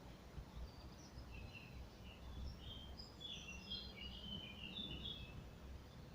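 Small birds chirp and tweet intermittently in the distance, faint high calls scattered over a soft, steady outdoor background hiss with low rumble, during a muscle-strengthening exercise session.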